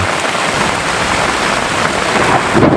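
Heavy rain pours onto a bamboo shelter, a dense, steady hiss and patter that stays loud and close the whole time, with no voices.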